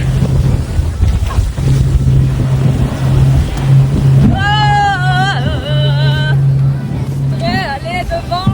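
A small boat sets off on the water in Colombia, with a steady outboard motor drone under rushing wind and splashing. Voices and excited shouts cut in over the engine noise.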